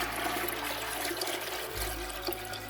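Eight cups of cool water pour steadily into a pot of beans, a continuous gushing splash that deepens in tone near the end as the vessel fills.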